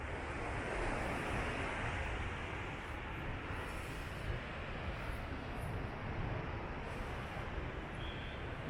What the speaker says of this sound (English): These are the waves of the Pacific Ocean.